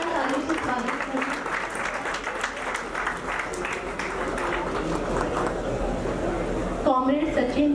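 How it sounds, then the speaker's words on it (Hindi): Audience applause welcoming a guest onto the stage at a retirement party: dense, steady clapping from a crowd that fills the whole stretch, with a brief shift in texture near the end. "जोरदार तालियों से स्वागत करें।"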